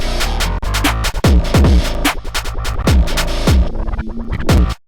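Deep 808 bass notes with gliding, booming tails pulse through a drill beat built in FL Studio. Crisp hi-hats and snappy drum hits sit on top, loud and upfront, with no voices.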